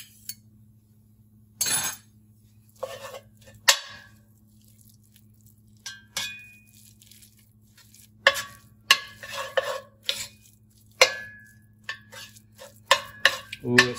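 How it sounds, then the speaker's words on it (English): A spoon stirs tomato paste into spaghetti sauce in a pot, with scattered scraping strokes and metallic clinks against the pot between quiet pauses and a low steady hum. "add the tomato paste. And then stir that in."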